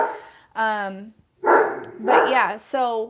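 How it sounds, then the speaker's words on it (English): A pet dog barks and howls loudly indoors in a few drawn-out, tonal bursts, with a person talking over and between the calls. "excuse my dog"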